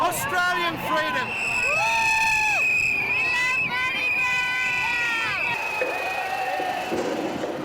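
A large crowd cheers along a Sydney street during the Mardi Gras parade, a steady roar of voices with whistles and shouts, mixed with music, while a voice speaks over it.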